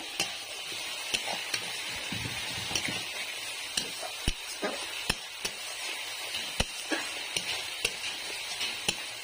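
Half-ground green chillies frying in oil in a pan: a soft, steady sizzle with frequent sharp clicks of a spoon or spatula stirring against the pan, fairly faint and close.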